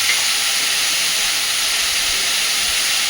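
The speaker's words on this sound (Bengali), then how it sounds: "ন্যাচারালি কুমড়ো সিদ্ধ হতে খুব বেশি সময় নেয় না" Pumpkin with salt and turmeric boiling in a pot on the stove, a steady broadband hiss and bubbling simmer that continues evenly and loudly throughout, with no talking.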